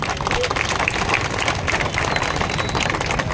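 Audience at a political election rally in a colony meeting breaking into applause, dense continuous clapping mixed with crowd babble, loud and steady.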